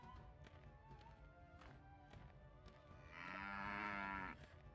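A cow gives one long, loud moo lasting over a second, following a stretch of quiet farm background with scattered light taps and thumps, fairly close.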